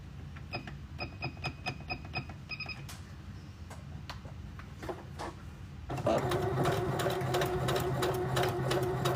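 A sewing machine stitches down a strap with light ticking at first, then runs loud and steady near the mic for the last few seconds. No one speaks.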